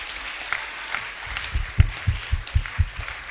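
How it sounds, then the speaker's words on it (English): A church congregation gives a short clap offering: a loose patter of hands building into several distinct, fairly strong claps near the end, with a murmur of voices beneath. "So now let's give a clap offering to the Lord."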